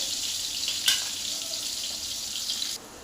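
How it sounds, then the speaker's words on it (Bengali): Pumpkin pieces sizzle in hot oil, a steady bright crackle close by with a short louder burst near the start before it cuts off. "কুমড়োটাও ভেজে নিই ভালো করে"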